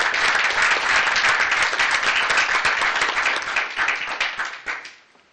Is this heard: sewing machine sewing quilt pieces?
no